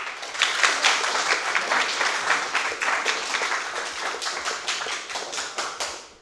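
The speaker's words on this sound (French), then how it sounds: "Applaudissez Mathéo." An audience at a student eloquence contest in a university computing department claps briskly and densely for about six seconds, a dense wash of hand claps that stays loud before tapering off at the end.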